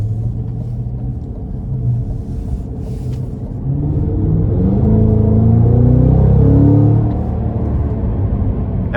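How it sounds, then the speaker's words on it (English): A supercharged 6.2-litre V8 in a 2022 Cadillac CT5-V Blackwing pulls hard, its deep engine rumble swelling loud from inside the car, then easing off near the end. "I'm gonna give it one more pull here."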